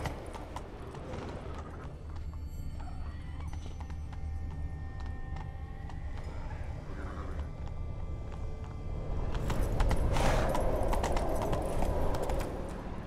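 Roach, a horse in the video game The Witcher 3, galloping with steady rhythmic hoofbeats under ambient game sound and a swell of music, with no talk over it.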